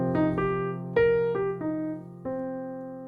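Ascending and descending arpeggio played in a swung jazz eighth-note feel, about six clear pitched notes with rich overtones over a sustained low tone, moderately loud and alone.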